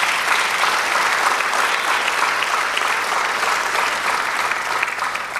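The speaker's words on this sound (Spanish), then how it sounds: "Dele un aplauso al Señor." A church congregation claps for the Lord during a sermon, steady loud applause filling the whole stretch without pause and with no speech over it.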